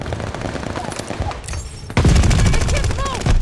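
Heavy gunfire from a World War II battle in Call of Duty: Vanguard, a loud continuous barrage of rapid shots that briefly thins out and then surges back even louder, with voices under the din.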